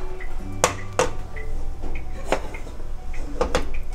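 A pressure cooker lid opened after cooking mutton yakhni soup, giving a few sharp metallic clacks and clicks close by, spaced across the moment with a steady low hiss underneath and no talking.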